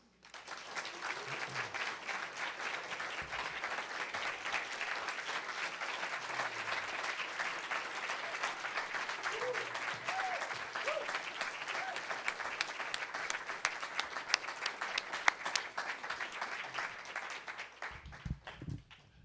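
Sustained audience applause for poet Nick Flynn after his reading at a faculty presentation, a steady wash of many hands clapping at moderate distance before tapering off at the end.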